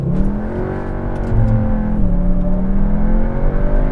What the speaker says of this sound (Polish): lewa noga na hamulcu, prawa noga na gazie, launch control aktywny